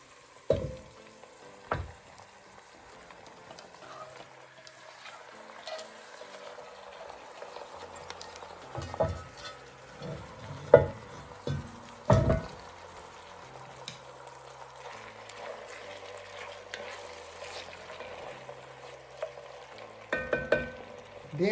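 About 36 ounces of ground beef frying in a pot for homemade chili, with a steady, moderately loud sizzle that runs throughout. Occasional thumps and stirring knocks come through, and no one speaks.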